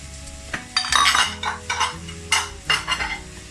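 Diced onions frying in coconut oil in a curry pan give a soft sizzle beneath several loud, uneven clatters and scrapes of a utensil stirring against the pan.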